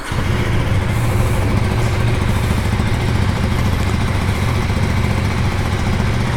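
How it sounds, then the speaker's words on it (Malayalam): Exhaust note of a 2025 KTM Duke 390 motorcycle: a close, loud, steady engine rumble held evenly throughout, with no one speaking. "നമുക്കെന്തായാലും ജസ്റ്റ് ഒന്ന് എക്സോസ്റ്റ് നോട്ട് കേൾക്കാം."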